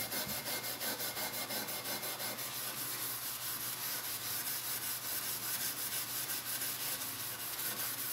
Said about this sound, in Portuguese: Eu vou continuar esfregando aqui